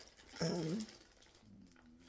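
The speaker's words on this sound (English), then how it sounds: "My stomach is growling." A stomach growling indoors gives a brief gurgling rumble in the first half, fairly loud against a quiet room, then a fainter low rumble trailing off near the end.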